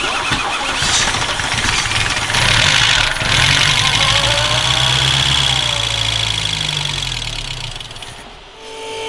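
A small VW Polo petrol engine, a barn-find car, runs after carburetor work, idling close by with a rough, uneven churn that rises briefly and dips near the end.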